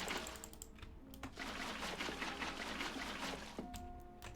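Oil bucketed into a combustion engine in the Tekxit game, a quiet liquid slosh and pour with soft clicks and shifting tones, faint and steady for a few seconds.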